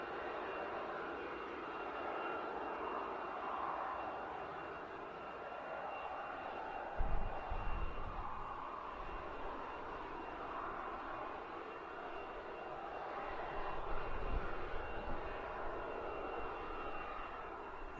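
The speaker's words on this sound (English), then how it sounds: "the delivery flight there making its way over from Hamburg, the Airbus factory over there" An Airbus delivery flight inbound from the Hamburg factory passes as a distant, faint airliner rumble, a low steady drone with brief swells near the middle and end.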